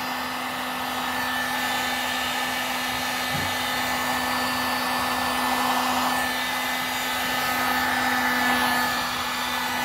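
A heat gun blows hot air onto shoe material during custom shoe making, producing a steady, close, continuous whooshing roar that holds almost unchanged throughout with no voices.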